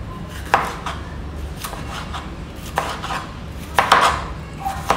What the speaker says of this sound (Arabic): خليني اقطعه كده ايه مكعبات.